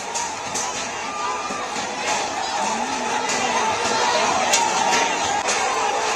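A rioting crowd fills a railway station with a dense, steady roar of many voices and shouts, with scattered louder yells rising over the din throughout.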